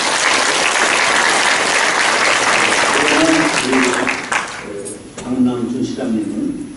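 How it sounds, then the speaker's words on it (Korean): An audience at a church celebration in Incheon applauds the city's mayor with steady, full clapping, which thins out near the end as a voice starts speaking over the last clapping. "박수 한번 해드릴까요?"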